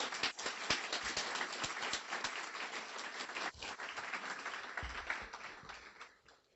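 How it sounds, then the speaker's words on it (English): Applause for instructors at a guide dog school graduation ceremony, a crowd clapping steadily and fairly close, the sound swelling and thinning before fading out at the end. "A warm round of applause for the instructors that make this possible."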